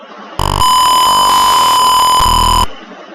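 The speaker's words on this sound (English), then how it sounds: "the buzzer uses Millis to create a double pulse beep pattern without freezing the microcontroller" A microcontroller-driven buzzer alarm sounds a loud, harsh electronic tone lasting about two seconds, with brief pulsed bursts at its start and end, in an otherwise quiet setting.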